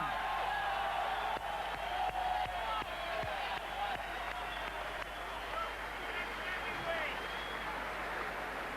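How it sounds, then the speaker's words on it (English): A crowd at a 1985 Mike Tyson heavyweight boxing bout roars continuously in the arena with scattered sharp hits, while a commentator talks over the noise. "The crowd chanting the next heavyweight champion, Mike Tyson."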